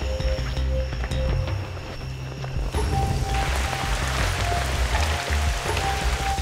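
Steady rain falling outdoors, a continuous broadband hiss with low rumbling underneath, constant and fairly loud throughout with no voices.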